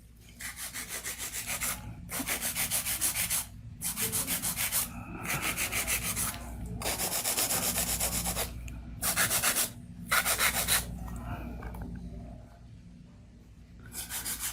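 A 160 grit Chisel file works an acrylic nail in quick, even back-and-forth strokes, loud and close. The rasping comes in repeated bursts with short pauses between them.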